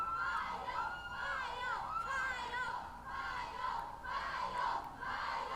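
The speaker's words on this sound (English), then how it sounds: "Oh my god, you can hear the crowd in this one. They are loud." A large crowd at the Y Universe Awards screams and cheers loudly and continuously as the stars come out and pose for photos. The excited shrieking rises and falls in waves without any break.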